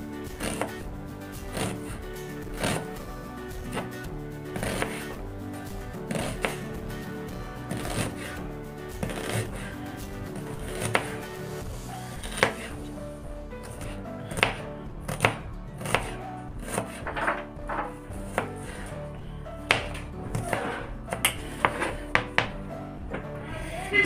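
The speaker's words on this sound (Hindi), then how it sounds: "प्याज इस तरह से काट लेंगे बारीक बारीक।" A knife finely chopping onions on a board, a fast, uneven run of crisp close taps that carries on throughout with occasional louder knocks.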